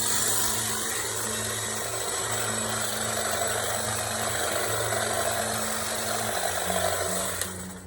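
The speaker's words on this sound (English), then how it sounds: "The hedge trimmer is not working." Hedge trimmer running steadily while cutting into a dense asparagus densiflorus plant, a continuous buzzing motor hum with slight wavering pitch, close and alone.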